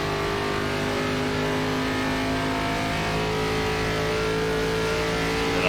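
A NASCAR race car in an ARCA Series race at Pocono Raceway in iRacing, its engine droning loud and steady at high revs with no let-up, no voices over it.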